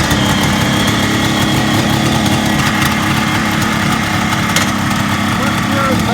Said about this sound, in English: Starts on the first kick.